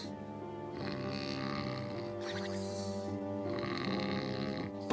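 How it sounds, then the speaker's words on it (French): In a Little Red Riding Hood cartoon, the big bad wolf sprawls asleep and snores loudly in long, rasping, throaty breaths, two or three full cycles rising and falling, close and prominent, with no speech. "Je n'aurais jamais imaginé qu'une vieille dame puisse ronfler aussi fort"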